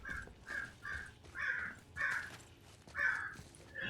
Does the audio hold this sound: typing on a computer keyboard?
no